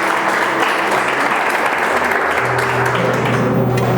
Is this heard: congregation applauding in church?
yes